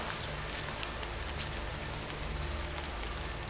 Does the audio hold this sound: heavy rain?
yes